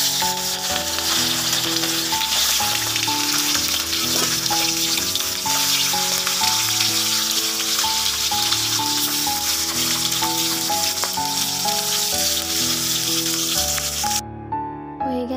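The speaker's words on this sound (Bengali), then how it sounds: "হয়ে গেছে মাছ ভাজি করা" Hilsa fish frying in hot oil, a steady loud sizzle and crackle running continuously under prominent background music.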